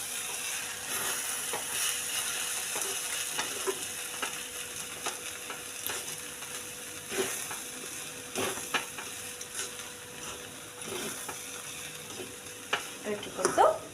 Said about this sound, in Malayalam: എന്നിട്ട് തേങ്ങ നമുക്ക് നന്നായിട്ട് ഇളക്കി കൊടുക്കും.